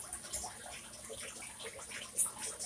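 Water splashes and patters steadily from a hose or can as plants are given a good soaking outdoors, close by, with no talking.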